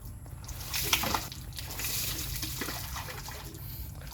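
Murky water pouring and splashing steadily at close range, a continuous broadband rush with a brief louder surge near the start, with no talk.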